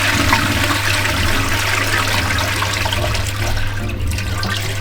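Water is taken from a toilet, and it rushes loudly and steadily like a flush, a constant splashing roar that lasts throughout with no talking.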